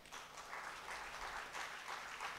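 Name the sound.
a child clapping in the audience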